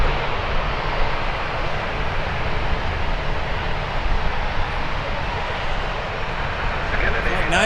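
Airliner engines roar steadily at Toronto Pearson airport, a loud broadband rumble with no breaks, close and continuous.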